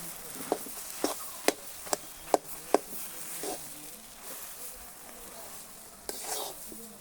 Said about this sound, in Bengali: এখন ঘিয়ের সঙ্গে ডালটা ভেজে নেব